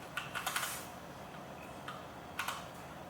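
Quiet, close clicks of typing on a computer keyboard come in short scattered bursts of a few keystrokes each, separated by brief pauses.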